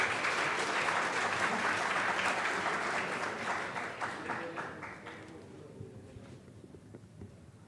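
A conference audience claps in a dense, sustained burst of applause that starts loud and gradually thins and fades away toward the end.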